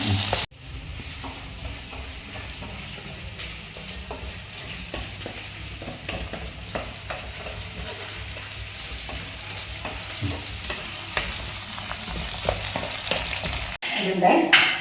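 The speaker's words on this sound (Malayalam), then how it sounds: "പച്ചമുളക് ഇത് ആഡ് ചെയ്തു ഇനി ഇതൊന്ന് മൂത്ത് വേണം" Slit green chillies frying in a pan, producing a steady, moderate sizzle with frequent small crackles and stirring clicks that grows slightly busier toward the end.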